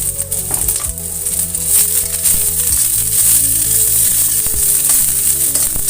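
Onion, ginger and garlic sizzle in a little oil, a loud, steady frying hiss close to the pan, with occasional stirring clatter and no talk.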